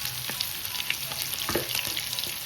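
Chicken for kabsa fries in a pan with a dense, continuous crackling sizzle close by, marked by a few light clicks as it is turned. No one speaks.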